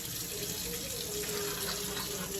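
Hot water runs steadily from a kitchen faucet into a sink, a soft even hiss that is fairly faint and continuous with no talking.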